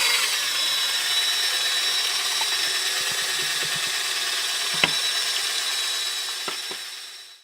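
A power drill spins a bent piece of rebar to stir sealant, giving a steady high whine that runs unbroken before winding down at the end, with a few faint knocks underneath.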